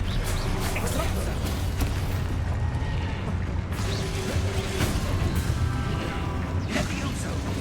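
Explosion spell effects in the game Hogwarts Legacy, with repeated booming bursts and crashing impacts over a dense, loud background of battle noise and voices.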